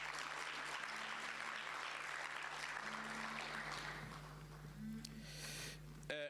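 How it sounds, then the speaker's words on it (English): A summit audience gives school governors a round of applause, a dense, steady wash of clapping that thins out after about four seconds. A constant low hum runs underneath throughout. "Can we be serious in showering them with a big round of applause?"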